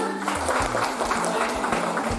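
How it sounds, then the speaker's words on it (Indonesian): A crowd applauds at a grand launching event, a dense, continuous patter of clapping that fills the whole short stretch at close range. "yang dari Makassar, tepuk tangan."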